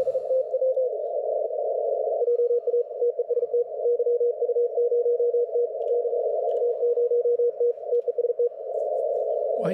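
A steady Morse code tone carries callsigns from European stations on the 28 MHz amateur band, one continuous keyed note with rapid dits and dahs, fairly loud and alone without speech.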